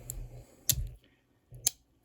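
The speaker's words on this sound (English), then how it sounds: "Great snap, great action. Got a wonderful pair of scissors." Scissors on a Victorinox Moose pocket knife snap shut twice, each a sharp crisp metallic click with a short spring rattle, close and isolated in an otherwise quiet room.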